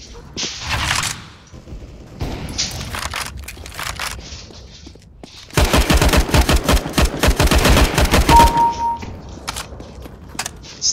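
Gunfire in Counter-Strike: Global Offensive, with scattered shots and bursts early on, then a loud, sustained stretch of rapid automatic fire lasting about three seconds before a few more isolated shots.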